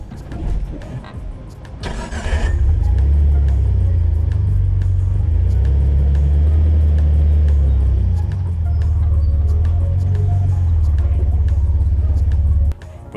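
A Jeep Wrangler TJ engine rumbles loud and steady at low revs as it crawls over an off-road obstacle, the deep drone holding for most of the stretch after a brief rise near the start.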